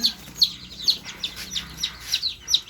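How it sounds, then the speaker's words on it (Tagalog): A young chick held in the hand chirps in a quick series of high, sharp peeps, close and clear, repeating at a steady rhythm for a few seconds. "hahawak ako ng sisiw"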